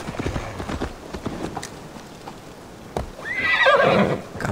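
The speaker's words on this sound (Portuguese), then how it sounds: "Cavalo novo, ó." A horse in Assassin's Creed Valhalla lets out a loud, shrill whinny near the end, after a stretch of soft rustling and muffled hoof sounds.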